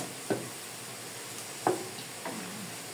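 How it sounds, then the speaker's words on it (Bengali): Shing fish coated in turmeric and salt fry in a pan under a soft, continuous sizzle, broken by three distinct stirring scrapes spaced about a second apart. "এখন আমি এখানে মাছগুলো কষানোর জন্য দিয়ে দিব এই যে শিং মাছগুলো এখানে কষানোর জন্য দিয়ে দিব"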